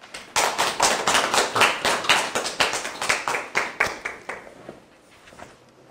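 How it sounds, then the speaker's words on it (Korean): Applause from an audience welcoming a philosophy professor to a lecture colloquium: a small crowd clapping in sparse, distinct claps that thin out and fade after about five seconds. "큰 환영의 박수 부탁드립니다"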